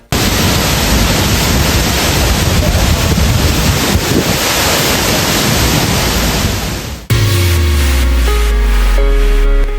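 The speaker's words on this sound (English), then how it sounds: "We were both blown away by the sheer power of the waterfall." A powerful waterfall in Ubud, Bali roars as a loud, dense, unbroken rush for about seven seconds, then cuts off abruptly and music takes over.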